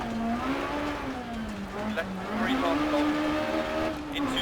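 A kit car engine in Dirt Rally on a Swedish stage holds high revs, bouncing against the rev limiter with a wavering, buzzing drone that rises and dips continuously, loud and close.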